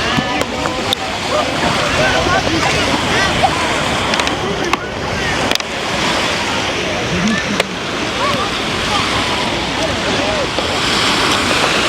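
Waves wash onto a Toronto beach, with continuous sloshing surf, wind buffeting the microphone and people talking over it throughout.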